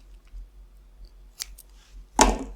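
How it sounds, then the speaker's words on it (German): Scissors snip yarn thread during crocheting: two short, crisp cuts, the second louder, over a faint low background hum. "schneide noch einmal den Faden"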